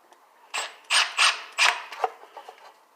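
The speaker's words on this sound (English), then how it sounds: "I'm putting in the 4 screws now." Screws being hand-tightened into a Harbor Freight oscillating cutter, heard as several short scraping, rasping bursts close by with brief pauses between them, no talk.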